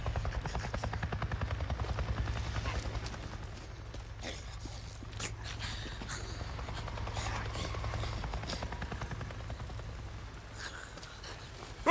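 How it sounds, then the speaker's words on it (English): Helicopter rotor thudding overhead in the horror video game Ghost Graveyard, a steady low chop that is loudest early on and then holds at a lower level, with scattered footsteps and small noises over it. "I just saw a goddamn chopper!"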